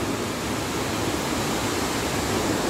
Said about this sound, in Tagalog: Look at the majestic